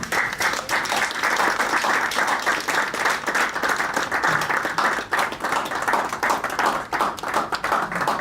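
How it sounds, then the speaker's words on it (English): An audience bursts into sustained applause after a lecture, dense steady clapping from many hands filling the room without pause for several seconds. "Please don't stop clapping."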